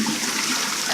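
A toilet flushes after its button is pressed, a loud rushing gush of water that fills the whole brief moment.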